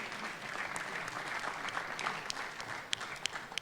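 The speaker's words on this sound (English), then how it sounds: "Please, a round of applause for them." Audience at a CEO roundtable business conference clapping for the panel, a steady dense wash of applause with a few sharper individual claps near the end, moderately distant.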